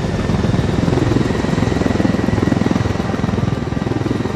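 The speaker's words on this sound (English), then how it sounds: "Helicopter incoming." A helicopter in the video game Ghost Recon Wildlands, its engine and rotor producing a steady, loud, close-sounding drone with a fast chopping pulse that carries unbroken throughout, with no voices over it.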